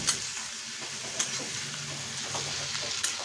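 Onion frying with a little salt in a pan, a steady close sizzle with occasional stirring scrapes and clicks.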